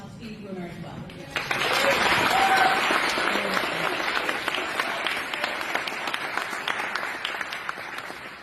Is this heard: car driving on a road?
no